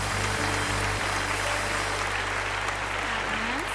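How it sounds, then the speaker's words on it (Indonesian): Children in an online Sunday school class clap together in a steady, dense burst of applause that stays loud for the whole stretch, with a low hum underneath. "Kita kasih tepuk tangan dulu ya buat Tuhan Yesus."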